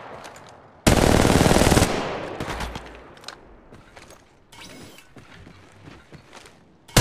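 Automatic weapon fire in the mobile shooter game Apex Legends Mobile: one loud, dense burst of about a second, then scattered fainter shots and game effects trail off.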